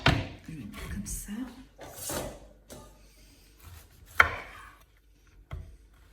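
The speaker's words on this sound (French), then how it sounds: "Donc j'ai lavé mon chou-fleur, je l'ai préparé et je vais couper des tranches" Cauliflower being sliced with a knife on a board, a few crisp cutting crunches and taps at irregular intervals, close and fairly quiet, with a voice talking in places.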